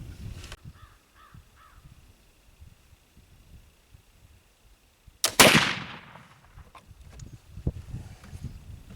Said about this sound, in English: the homemade gunpowder touches the main charge off a lot quicker